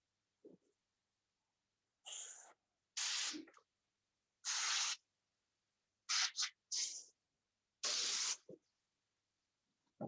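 Lacquer sprayed onto a leather car seat in short hissing bursts, about seven of them, each lasting around half a second, separated by silence and heard close up.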